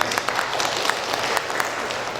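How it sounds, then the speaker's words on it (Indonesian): Audience applause at the opening of a regional MUI council meeting in Dumai, a dense, steady patter of many hands clapping at moderate level for a couple of seconds without talk. "Tepuk tangan."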